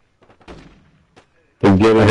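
Gunfire in the Warzone 2 video game: faint scattered shots early on, then a loud, dense burst of firing that runs to the end.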